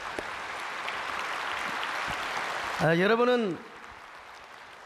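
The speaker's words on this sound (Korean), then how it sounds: "먼저 환영의 박수 좀 해주시면 고맙겠습니다" A church congregation at Sae Eden Church claps in welcome during a worship service, a dense steady patter of many hands lasting a few seconds before a voice cuts in over it.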